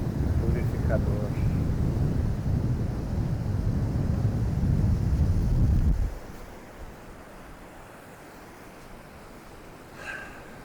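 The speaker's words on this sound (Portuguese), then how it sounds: "Essa brisa com maresia é algo, purifica a energia, limpa tudo." Sea breeze buffets the microphone with a loud, steady low rumble for about six seconds, then drops abruptly to a quieter hiss of coastal air, with faint voices in the background.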